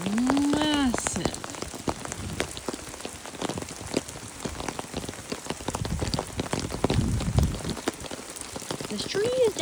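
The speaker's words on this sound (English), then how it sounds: "It's very rainy" Steady rain patters on a wet trail in San Francisco, a dense continuous hiss of drops close by that runs the whole time, with occasional brief voice sounds over it.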